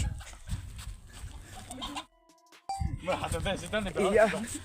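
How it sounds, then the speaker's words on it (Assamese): Chickens squawk and flap while being caught at night for a Bihu party picnic, their cries close and agitated and mixed with people talking, broken by a brief quiet gap midway. "মুৰ্গী ধৰি আছোঁ মুৰ্গী"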